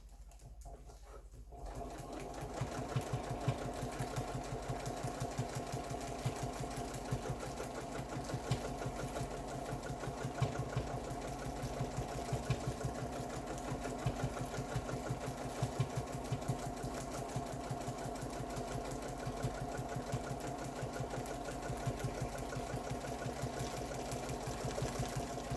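A domestic sewing machine running pantograph quilting hums in a steady, continuous, close whir after a brief quiet start, its rapid needle rhythm unbroken for the rest of the stretch.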